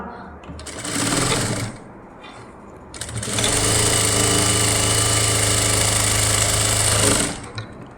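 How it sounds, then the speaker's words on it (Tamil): A sewing machine stitches a quarter-inch seam on blouse fabric: a short whirring burst, a pause, then a longer steady run of rapid mechanical stitching that stops abruptly, close and loud. "ஒரு தையல் கால் இன்ச்சில் இந்த ஓரத்தில் இப்படியே போட்டுட்டு வர போகிறேன்"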